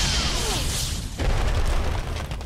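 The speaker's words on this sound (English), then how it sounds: "Press the Y button to use your missile barrage." A missile barrage special power in Costume Quest lands as a loud sustained booming blast, a whistling descent giving way to a dense rumbling explosion that fills the whole moment.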